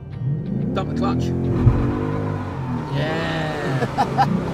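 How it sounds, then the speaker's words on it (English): Ford Mustang GT V8 with Line Lock doing a smoking tyre burnout, engine revving hard with rising harmonics and loud tyre roar; people talk and shout over it. "Line Lock lets the driver spin the tyres up and perform a spectacular smoking burnout."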